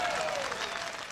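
A brief burst of audience applause at a live-streamed stage show, a dense patter of many hands with faint voices and a whistle-like tone mixed in.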